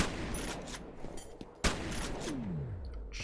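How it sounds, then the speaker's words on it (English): Rapid bursts of gunfire and explosions from grenades in the horror shooter F.E.A.R., dense and loud throughout, with a sharp blast near the middle followed by a falling whine. "I throw a grenade and you throw a grenade. We're throwing grenades."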